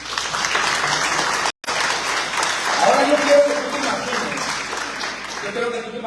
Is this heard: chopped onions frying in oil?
no